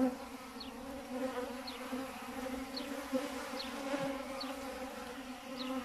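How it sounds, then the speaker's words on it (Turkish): Honeybees buzz in a steady, close drone, a dense humming swarm drawing syrup from a plastic bag feeder, with faint intermittent higher tones. "Poşetli beslemede arı poşetten nasıl alıyor şurubu, ona bakıyoruz."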